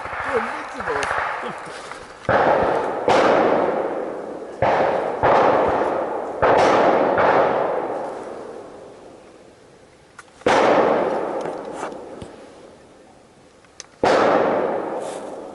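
Blank gunfire crackles at a WWII Operation Cobra re-enactment, a series of sharp single shots spaced irregularly over several seconds, each ringing out with a decaying echo as from a street between buildings.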